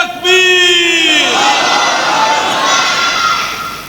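A large crowd at a religious gathering in Sargodha roars a slogan in unison, a loud sustained chorus of many voices that swells and holds for several seconds before slowly fading.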